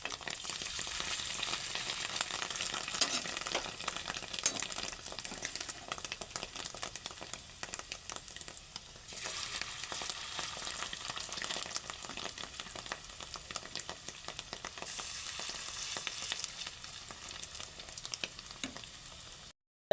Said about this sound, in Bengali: এইভাবেই সব ডিমগুলো ভেজে নেব।